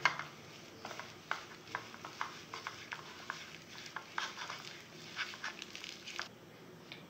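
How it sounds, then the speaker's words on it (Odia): Batter for dahi bara, mixed with cumin, crushed ginger and salt, is stirred by hand in a bowl, giving repeated wet scraping and slapping strokes in an uneven rhythm, close and moderately loud, with no talking. "ଗୋଟା ଜିରା ଅଦା ଛେଚା ସ୍ୱାଦ ଅନୁସାରେ ଲୁଣ ଦେଇ ଏହାକୁ ଭଲ ଭାବେ ଗୋଳାଇ ନେବା"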